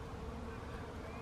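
Bees buzz steadily on an almond farm in Israel, a dense, continuous hum from many insects filling the air without a break.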